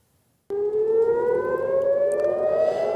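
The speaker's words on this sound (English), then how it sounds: "Dawn's peace was shattered by sirens" After a brief quiet moment, an air raid siren in Israel kicks in abruptly at dawn and wails loud and steady, its tone slowly rising.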